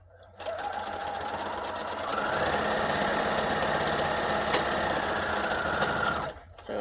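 A sewing machine stitching squares for a temperature quilt, a close, rapid mechanical chatter that starts abruptly, runs steadily and speeds up slightly, then stops.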